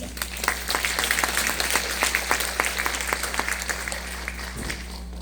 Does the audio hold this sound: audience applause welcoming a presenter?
yes